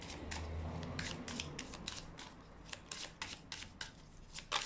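Tarot cards drawn one by one from a deck, giving a run of short crisp card snaps and slides with a few louder flicks near the end, close and fairly quiet with no talk.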